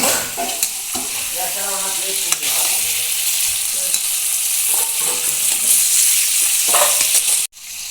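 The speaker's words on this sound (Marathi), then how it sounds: "परतून घेणार तेलामध्ये पनीर परतून घेणार" Paneer fries in hot oil with constant sizzling and clattering spatula stirs, loud and close, ending in a sharp knock; a brief voice is heard partway.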